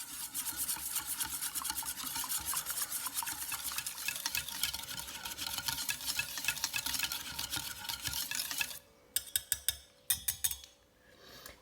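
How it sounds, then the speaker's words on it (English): A whisk works melted chocolate into milk for a vegan chocolate ganache ice cream base, a dense, rapid, continuous scraping whir against the bowl that stops abruptly, followed by a few separate clinks and taps. "we start to whisk the chocolate into the milk, but we start from the center outwards"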